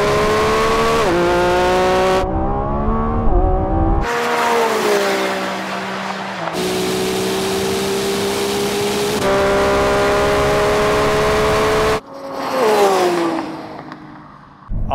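A Lamborghini Revuelto hybrid and a Ferrari 296 or SF90 launch from a rolling 30 mph start in a drag race, engines roaring loudly through rising gear pulls with sharp shift breaks, then a fresh burst of revving near the end.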